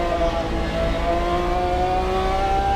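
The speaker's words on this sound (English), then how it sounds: "Love the sounds of these cars as he goes a bit wide." Race car engines scream in a 24H Le Mans racing video game, a loud sustained high-pitched whine whose pitch climbs slowly as the car accelerates, with no voices.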